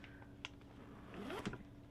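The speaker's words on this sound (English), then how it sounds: "Nice smooth zipper." The zipper on a Tory Burch handbag with silver hardware is pulled in a few short, soft, close strokes, giving smooth zipping rasps in a quiet room.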